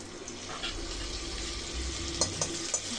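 Butter sizzles in hot oil inside a pressure cooker, a soft, steady frying crackle with a few small sharp pops toward the end.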